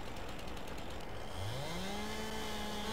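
A chainsaw in Farming Simulator 22 cuts through logs: steady mechanical noise at first, then the engine revs up into a rising, sustained whine that holds loud and close.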